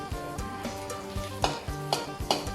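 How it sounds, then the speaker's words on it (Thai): Egg frying with cha-om acacia leaves sizzles steadily in a pan while a utensil scrapes and stirs in several sharp strokes, close and fairly quiet. "ทอดไข่ใส่ชะอม"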